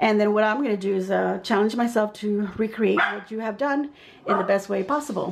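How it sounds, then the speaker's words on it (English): A pet dog barks at someone arriving home, its barks mixed into continuous nearby talk. "that's my dog letting me know my husband is home"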